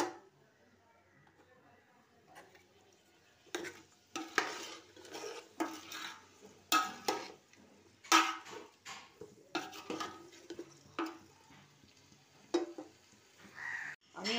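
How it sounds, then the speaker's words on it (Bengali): Spiced vegetables with ginger being stirred in a pan, with repeated scraping and clinking of a utensil against metal in irregular bursts, close and moderately loud, over a quiet background. "দিয়ে সবজিগুলো ভালো করে নেড়ে চাপা দিয়ে দিচ্ছি যতক্ষণ না নরম হয়।"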